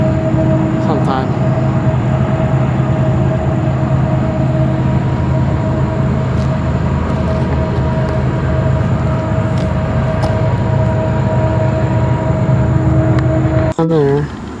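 A train rumbles past at length near a hiking trail at Long Point, West Virginia, a steady loud roar with tonal hums that cuts off abruptly near the end.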